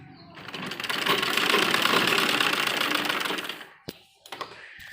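A sewing machine hums continuously for several seconds while stitching a heavy, lined suit, then cuts off, followed by a few faint clicks and handling sounds.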